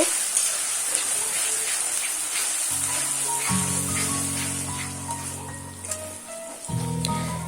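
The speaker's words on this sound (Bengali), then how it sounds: "পেঁয়াজ পেস্ট রসুন পেস্ট ও আদা পেস্ট দিয়ে খুব ভালোভাবে নেড়ে চেড়ে একটু ভেজে নিব" Onion, garlic and ginger paste sizzles in hot oil while being stirred for vegetable khichuri, a soft steady frying crackle with occasional scraping, and faint low tonal hum from a nearby appliance in the background.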